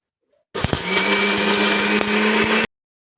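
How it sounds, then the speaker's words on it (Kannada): A kitchen mixer grinder runs a mango chutney in one continuous loud whirring burst of about two seconds, starting and stopping abruptly. "ಈಗ ನಾನು ಮಿಕ್ಸಿ ಹಾಕಿ ರುಬ್ಕೊತೀನಿ ಅದನ್ನು"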